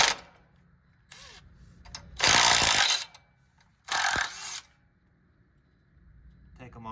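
A ratchet works loose bolts on the 3RZ engine of a 1997 Toyota Tacoma being removed, giving two loud bursts of rapid clicking separated by quieter clatter and handling noise, with someone talking.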